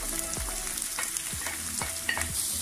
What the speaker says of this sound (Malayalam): അപ്പോൾ ഇത് ഞാൻ എല്ലാ സാധനങ്ങളും ഇതിനകത്തിട്ട് ഇളക്കിക്കൊണ്ടിരിക്കുകയാണ്